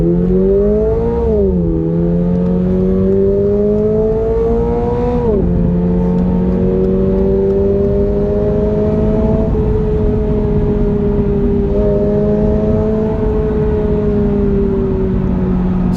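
A 2023 Toyota GR86 Premium accelerates hard from a standstill, its engine loud and close, revving up through rising pitch, dropping briefly at each gear change, then climbing again as speed builds.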